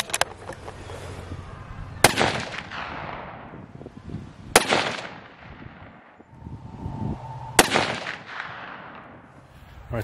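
Three loud rifle shots firing 150 grain TSX bullets outdoors, each a sharp crack with a long echoing tail, spaced a few seconds apart, with faint handling noise between.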